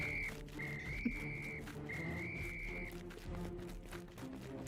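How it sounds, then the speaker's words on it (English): A shrill whistle blows three times, steady high tones of varying length over a low background rumble and faint activity. "That sounds like a guard's whistle."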